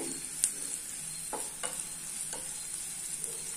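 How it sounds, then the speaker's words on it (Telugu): Carrot rice frying in a pan with coriander and curry leaves added, a steady soft sizzle with a few light stirring scrapes and clinks, heard alone without talk. "ఇలా ఫ్రై అయ్యాక ఇందులో కొంచెం కొత్తిమీర కరివేపాకు వేసుకుని ఫ్రై చేసుకోవాలి"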